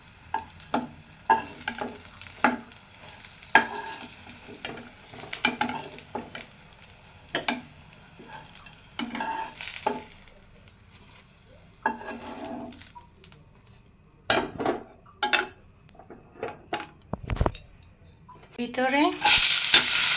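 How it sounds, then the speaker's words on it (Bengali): Slices of pointed gourd sizzle in a frying pan while a spatula stirs and scrapes them in repeated strokes, with occasional clinks of utensils, and a brief spoken word. "এইভাবে পটল ভাজলে গা কাঁচায় পটলগুলো ভাজি করলে ভিতরে খুব সুন্দর মতো ভাজা হয়"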